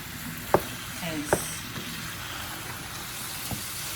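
Shrimp cooking in olive oil in a pan gives a steady, close sizzle and frying hiss, broken by a few short clinks of stirring.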